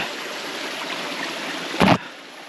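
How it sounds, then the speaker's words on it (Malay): A mountain stream rushes steadily over rocks at a tributary crossing on a hiking trail toward Gunung Rajah near Kuala Kubu Bharu, a continuous broadband flow with a short louder splash or handling knock near the end. "Sampai ke anak sungai yang ketiga."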